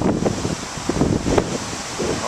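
Strong, turbulent wind rushes past a wind turbine on a windy day, a loud broadband roar with gusty surges and buffeting against the microphone.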